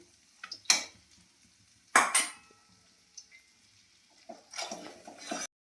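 Cumin powder, salt, turmeric and chili powder with bay leaf and dried chili fry in a pan for chickpea dal, heard as a few sharp utensil clatters and a closing stretch of sizzling and stirring, with no talk.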